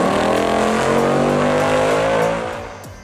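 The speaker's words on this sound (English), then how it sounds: "That exhaust note is music to any gearhead's ears." The 1970 Plymouth GTX engine roars loud and close, a deep, steady exhaust note held for over two seconds, then tapering off as it recedes.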